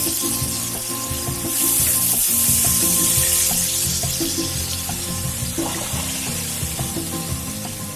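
Chicken sizzles and crackles steadily in hot oil, a loud continuous frying hiss, with faint music playing underneath.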